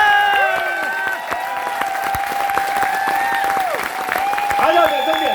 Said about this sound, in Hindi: अरे ताली रुकनी नहीं चाहिए यार